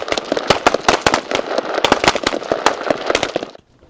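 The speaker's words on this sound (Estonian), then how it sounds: "Nii, nagu näete, laskmine on lõppenud." Rapid rifle gunfire at a modern shooting range in Võrumaa, Estonia, with dozens of sharp, loud shots cracking in quick irregular succession for several seconds before falling silent.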